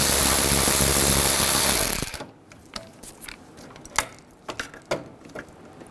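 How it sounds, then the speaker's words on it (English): A ratchet with a 10 mm socket clicks as it loosens hood latch bolts on a 2011-2014 Hyundai Sonata, short close bursts of clicking that follow a loud noise that cuts off abruptly. "Using a 10 millimeter socket,remove the three bolts for the hood latch."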